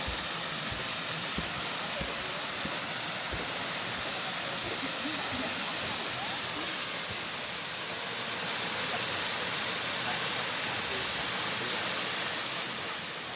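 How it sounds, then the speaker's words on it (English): Steady broadband rush of water, loud and continuous, like a nearby waterfall, with no talking over it, near the Gordon River Dam in Tasmania, Australia. "You can certainly hear the running water."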